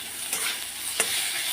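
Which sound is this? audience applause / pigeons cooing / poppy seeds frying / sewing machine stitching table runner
poppy seeds frying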